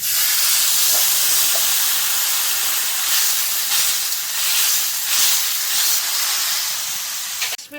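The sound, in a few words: water poured into hot pan with fish curry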